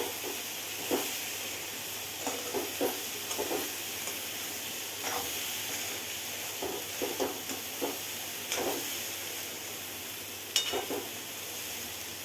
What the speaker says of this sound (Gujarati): એ લીંબુનો રસ એડ કરી લઈશું અને સરસ એવું મિક્સ કરી દેવાનું